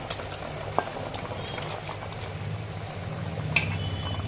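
A raw hilsa curry with eggplant and split green chilies boils in a pan with a steady, soft bubbling. A couple of faint clinks from stirring come through, and no one speaks.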